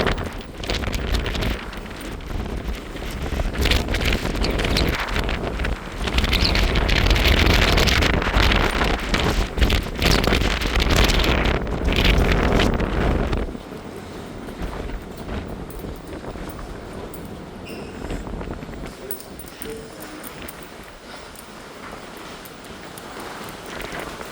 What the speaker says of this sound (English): It's windy out here for sure.